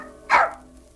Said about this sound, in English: And he had a dog named George.